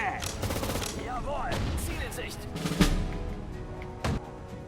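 Sudden Strike 4 battle near Leningrad with grenades tossed at a tank, heard as bursts of machine-gun fire, sharp shots and a couple of heavy blasts over continuous rumbling combat noise.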